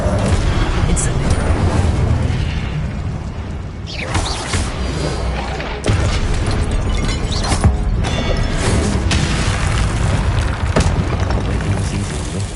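A fire spell erupts in Hogwarts Legacy, a dense roaring blaze with booming impacts and crashing effects that fills the scene, with a spoken incantation in the mix.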